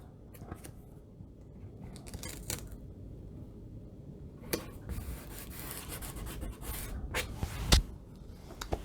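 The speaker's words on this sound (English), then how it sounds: "I'll just use my scalpel and I will trim it" A scalpel trims tape on a painted Darkmoon Fair banner, producing quiet scraping and rubbing strokes with occasional sharper ticks, close and faint against a soft background hum.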